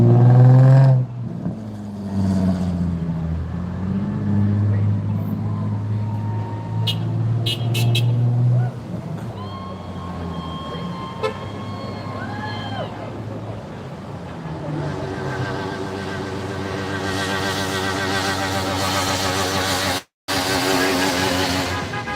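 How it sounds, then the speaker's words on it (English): A car engine revs hard and holds near redline at a street protest in Moses Lake, Washington, a loud, sustained roar that rises and wavers before easing off, with crowd noise and a few faint voices around it. "Don't blow up your motor, just hanging it off red line like that"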